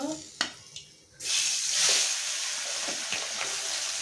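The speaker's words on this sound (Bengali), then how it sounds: "আমি বাকি মাছগুলো ভেজে নেব।" Chengu fish frying in hot oil, a steady bright sizzle that swells after a brief quiet opening with a couple of small knocks, then holds loud and close with occasional crackles.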